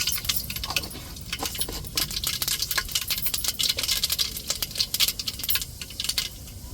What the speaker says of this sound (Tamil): இப்போ கடுகு உளுந்து சேர்த்துக்கிறோம். எண்ணெய் சூடேறிட்டு